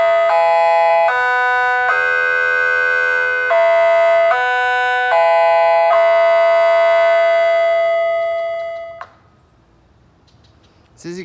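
A homemade 400-watt Alertronic-style electronic warning siren sounding outdoors, loud stepped tones shifting between pitches for about nine seconds before cutting off, leaving quiet background.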